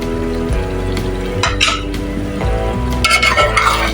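Fresh coriander being stirred into a lauki and chana dal gravy in a pan: soft sizzle and wet stirring with faint utensil scrapes, close and fairly steady, under a continuous tonal background, without speech.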